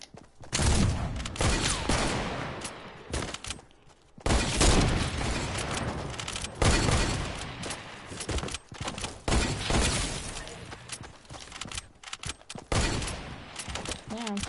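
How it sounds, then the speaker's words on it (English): Gunfire from a video game, with a sniper rifle in use, comes as dense, loud, continuous shooting and impacts that fill the whole stretch, mixed with other game noise. "Fine, I will snipe. Because my sniper's now reloaded."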